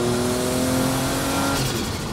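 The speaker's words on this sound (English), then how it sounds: "Listen to that wastegate." Porsche 962 race car, a 730hp classic Group C racer, at full throttle on the Goodwood circuit: a loud, continuous engine roar with steady tonal drone, heard close from onboard, shifting slightly near the end as the wastegate note opens up.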